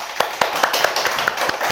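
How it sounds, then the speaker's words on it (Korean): A yoga class claps hands together after a headstand pose, a series of sharp, evenly spaced claps in quick rhythm, close and crisp in a room. "박수."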